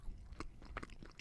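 Someone bites and chews a soft graham cracker cookie close to the microphone. A few quiet, muffled bites and soft chewing sounds come with little crunch and no talking.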